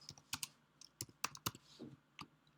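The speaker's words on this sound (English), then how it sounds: "So instead of that, I'm going to type in," Someone types on a computer keyboard, with quiet, irregular keystrokes in small bursts and brief pauses between them.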